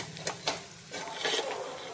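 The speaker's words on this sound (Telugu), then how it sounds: "మునగాకు వేసిన తర్వాత ఇది కూడా కాసేపు కలపాలి కదా మరి." A spoon scrapes and stirs drumstick leaves and onions in a pan, with a few distinct clinks against the metal over a low, steady sizzle, close and alone without talk.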